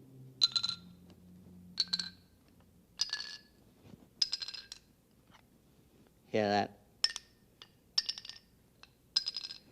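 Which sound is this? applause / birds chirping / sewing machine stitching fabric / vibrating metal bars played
vibrating metal bars played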